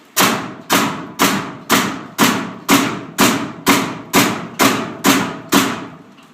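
A Paslode pneumatic framing nailer drives nails in a rapid, steady series of eleven loud, close shots, each a sharp thudding bang with a short decaying tail, about two per second, with no voices.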